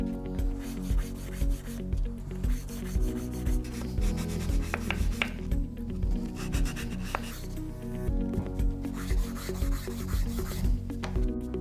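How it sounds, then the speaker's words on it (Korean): Sandpaper wrapped around a square wooden block rubs back and forth across a woodcraft piece in steady, rhythmic, close-up strokes, a soft continuous scratching with no talking. "각재에 사포를 말아쥐고 작업을 하는 방식이 있을 수 있겠습니다"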